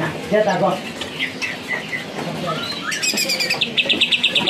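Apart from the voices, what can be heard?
green leafbird (cica hijau) singing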